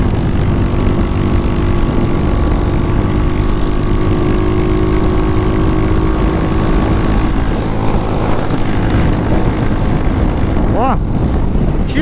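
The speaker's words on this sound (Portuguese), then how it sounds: "a moto ainda tá falhando" A Honda Titan 250cc motorcycle with a modified, faster carburetor drones loudly at steady speed on a highway, its engine note wavering and stumbling as it misfires, with wind rush throughout.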